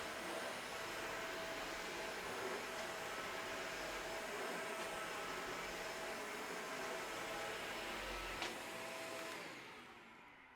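A Hoover HL4 Pet vacuum cleaner runs over carpet with a steady whooshing motor drone heard at moderate distance, a few faint bumps late on before the sound trails off.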